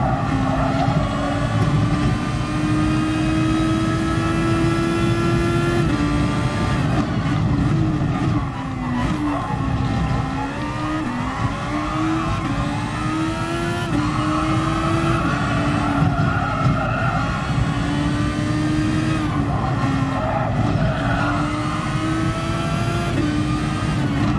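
A Super Formula SF19 race car in Gran Turismo Sport laps Laguna Seca in a daily online race, its engine screaming loud and continuous with rising and falling pitch through short-shifted gear changes and faint tyre noise.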